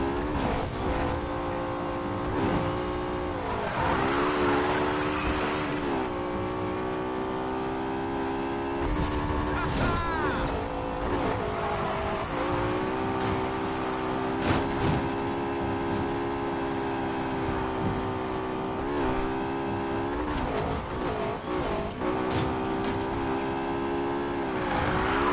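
A racing car in the video game Need for Speed Payback accelerates hard and climbs steadily through its gears, the engine note rising and dropping at each shift, loud and continuous throughout.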